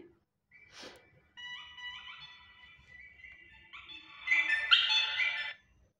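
A notification ringtone plays from a Redmi 9 phone: a short click, then bright electronic tones that rise in a tuneful phrase and swell louder toward the end before stopping, heard alone without speech.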